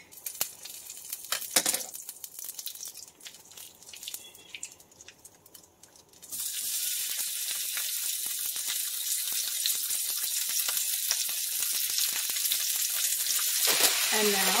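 Pork hitting a hot pan for chow mein with fresh ramen, breaking into loud, continuous sizzling frying partway through after quieter kitchen clatter, staying steady to the end.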